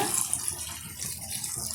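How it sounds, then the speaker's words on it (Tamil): Water poured steadily into a pan of chicken gravy, a continuous splashing gush close up and fairly loud, with no voices. "நான் தண்ணி வந்து ஆட் பண்ணிக்கிறேன்"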